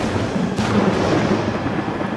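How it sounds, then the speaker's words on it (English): Rumbling thunder from a storm in the Gears 5 video game, a steady low roar that swells briefly about halfway through and fills the whole clip with no speech over it. "It's the storm!"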